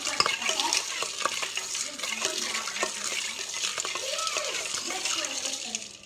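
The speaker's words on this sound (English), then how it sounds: "And then you're going to mix it up." A spoon stirs Morir Soñando, milk with orange juice and sugar, clinking and swirling steadily in a glass as a voice talks over the mixing.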